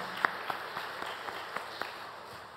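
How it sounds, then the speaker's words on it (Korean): A church congregation at a Sunday service claps, with a few distinct claps in a loose rhythm standing out over a faint, quiet background. "박수로 하나님께 영광 돌리겠습니다"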